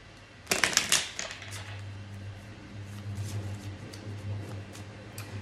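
A deck of cards is shuffled nearby, a brief crisp riffle burst near the start followed by quieter handling rustles and soft taps under a low background hum.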